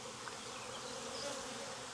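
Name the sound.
honey bees buzzing in swarm hive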